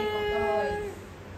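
A cat gives one drawn-out meow, close and fairly loud, fading off toward the end.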